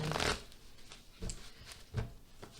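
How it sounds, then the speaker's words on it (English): Soft riffling of tarot cards being shuffled, three quiet bursts spaced apart, close but faint. "I'm trying to shuffle around my other cards, and I don't want to shuffle right in the microphone"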